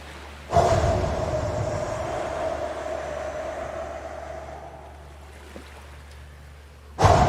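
Ocean waves wash in as a broad rushing surge that swells suddenly, then slowly fades and recedes before another wave breaks at the end.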